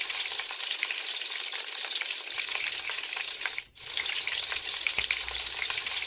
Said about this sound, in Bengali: এর মধ্যে আমি তেল আর ঘি একটু মিশিয়ে নিয়ে ভাজবো।